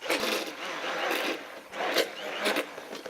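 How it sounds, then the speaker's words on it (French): An electric mixer whirs in bursts as mascarpone is blended into a yellow cream and maple syrup mixture, the motor rising and falling in several short pulses, close and fairly quiet. "Maintenant, je vais incorporer la mascarpone dans le mélange crème jaune et sirop d'érable. Et puis, donc, je vais mixer."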